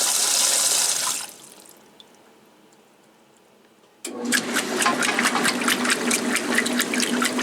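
A 1996 Maytag Dependable Care Plus washing machine filling with water: a loud rushing inflow that stops abruptly, a quiet pause, then a loud churning agitation with rhythmic sloshing, all close.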